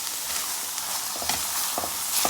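Rice with mushroom and asparagus is being mixed in a hot pan, a continuous close sizzle with a few soft scraping stir strokes, short and without voices.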